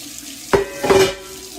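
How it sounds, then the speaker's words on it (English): Cold tap water running into a kitchen sink over raw chicken legs being washed, a short splashing gush that starts abruptly, swells briefly, then settles into a lighter flow. "What I do is just like to run cold water over and get up under the skin a little bit"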